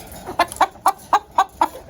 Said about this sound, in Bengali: এখানে হচ্ছে আমাদের আবার ফার্মি মুরগি মোরগ আছে।